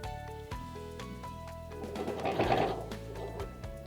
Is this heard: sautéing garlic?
no